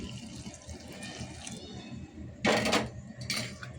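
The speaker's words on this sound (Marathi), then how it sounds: "गरम गरम पाणी मी ह्याच्यात ॲड करते" Two short splashy pours of very hot water into flour, the first louder and longer, heard nearby against a quiet kitchen background.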